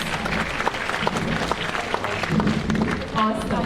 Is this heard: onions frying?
no